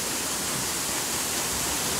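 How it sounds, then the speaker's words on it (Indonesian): A waterfall roars at night with a broad, steady hiss of falling water, loud and close, unbroken and alone without voices. "ternyata seperti ini tampak air terjun di malam hari ya"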